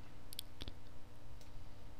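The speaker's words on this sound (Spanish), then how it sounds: "Damos doble clic." Two quick, light clicks in fast succession, close and crisp, followed by a couple of fainter ticks against a quiet background hum.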